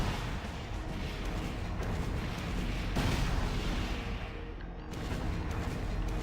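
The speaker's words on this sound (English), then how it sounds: "That explosion is actually like comically large" A grenade launcher blast in the Armored Core 4 mech game: a large, booming explosion with a rolling, roaring tail that fills the whole stretch, swelling loudest midway, with no talking.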